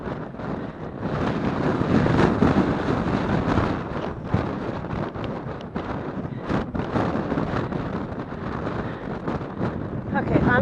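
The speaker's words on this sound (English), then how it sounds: "Holy crap, it's windy." Strong wind buffets a nearby microphone on Mount Kearsarge in New Hampshire, a constant loud roar with gusty surges throughout.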